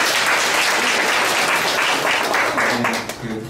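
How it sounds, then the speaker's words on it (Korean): An audience at a book concert applauds loudly to welcome a publishing company's CEO, with full, dense clapping from a seated crowd. Near the end the clapping thins out and a voice emerges. "또 한 번 더 큰 박수로 맞이하겠습니다."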